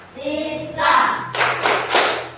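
A classroom of children clapping in unison, a few bright bursts of hand claps following a teacher's spoken lead, near and fairly loud with talk just before.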